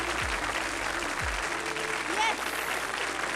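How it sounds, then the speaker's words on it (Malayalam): Applause from an audience at a Kerala Piravi celebration lamp-lighting ceremony of a Malayali association, a brief, fairly faint burst of clapping. "വലിയൊരു കൈയ്യടി കൊടുക്കാം. ക്ലാപ്പ്."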